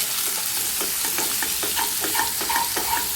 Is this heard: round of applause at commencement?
no